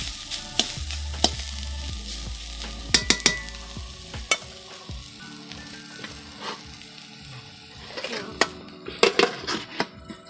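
Fish curry with raw banana and potato is stirred in a hot pan, with irregular clinks and scrapes of a utensil against metal over a soft sizzle, close up, louder bursts of clattering near the end.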